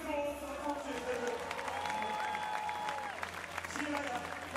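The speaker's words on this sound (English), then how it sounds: "Give one big round of applause for the contest, Libby." Audience applause rising from a crowd, steady and broad, with music tones and a voice sounding over it.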